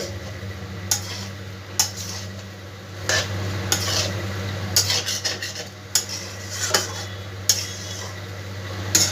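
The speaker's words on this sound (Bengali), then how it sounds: "ভালো করে আমি মিশিয়ে নিচ্ছি মশলার সাথে" Yogurt is stirred into spices in a pan over low flame for soybean curry: repeated metal spoon clinks and scrapes against the pan over a low steady hum and faint sizzle.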